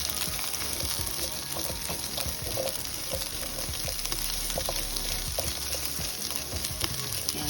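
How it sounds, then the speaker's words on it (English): Asparagus spears, stems included, sizzle steadily in a frying pan while being stirred, a constant hiss with small scraping and clicking sounds throughout. "And we're going to stir that around."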